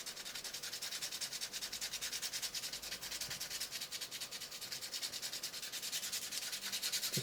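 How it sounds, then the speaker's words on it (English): Steady rhythmic sanding rasps against a weighted jerk/glide fishing lure, a continuous back-and-forth scratching at close range, heard on its own with no talking. "And then I just sand it a bit."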